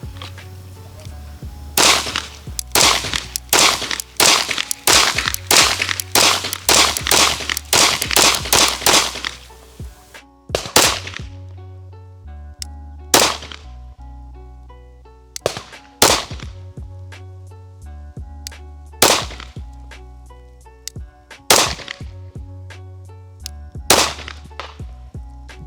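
Sig Sauer P226 MK25 pistol shots crack out loud and close, a rapid string of about a dozen quick shots followed by slower, evenly spaced single shots with short echoing tails.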